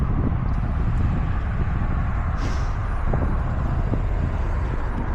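Trucks pass close by on a road during a morning commute from Syston into Leicester, a steady loud whooshing roar with a brief hissing rise, heard without talk.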